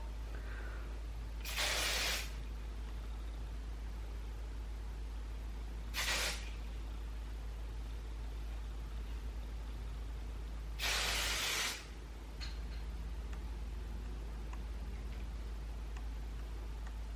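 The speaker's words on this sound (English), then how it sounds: "we'll try a little bit of hairspray as well" Hairspray sprays onto a pixie cut being styled into a faux hawk in three short hissing bursts, the last one longest, each close and loud against a steady low hum with quiet gaps between.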